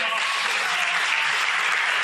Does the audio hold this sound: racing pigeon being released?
no